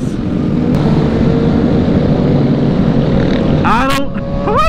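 A motorbike passes on a dirt riding spot, its engine a steady loud drone that rises in pitch near the end, with excited voices talking over it.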